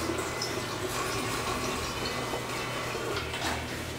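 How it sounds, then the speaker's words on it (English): Water pours steadily into a guzzler jug as it fills toward one gallon, a continuous close splashing rush with no pauses. "And we'll fill it up to 1 gallon"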